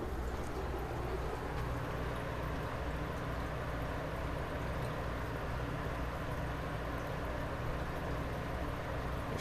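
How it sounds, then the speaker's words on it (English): A steady, loud whooshing hum of an electric fan runs continuously nearby, with no other sounds. "excuse my fan if the audio's a little loud."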